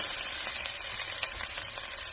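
Chopped onions fry in hot avocado oil for a cauliflower rice stir fry, a steady, bright sizzle that holds at an even level throughout, with no voices over it.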